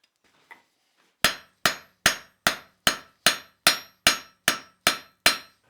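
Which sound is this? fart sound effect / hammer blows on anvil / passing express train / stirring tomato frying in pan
hammer blows on anvil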